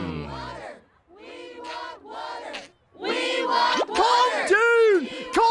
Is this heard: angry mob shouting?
yes